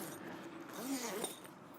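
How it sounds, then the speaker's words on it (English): The fabric door of a canvas bell tent is zipped with a short, quiet zipper rasp that lasts about a second. "and it just simply zips"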